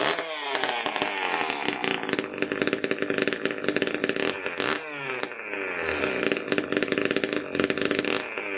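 An Echo 355T chainsaw, previously low on power from a plugged microscreen caused by a deteriorating fuel hose, runs loud and close with a buzzing two-stroke engine and repeated revving throughout.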